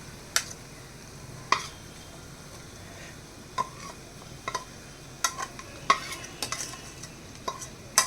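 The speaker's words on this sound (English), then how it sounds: "I am going to put the prawns mix inside the cast iron pan" Prawn mix tipped into a hot cast iron pan of browning onions gives a soft, low sizzle, broken by scattered scrapes and clinks of stirring.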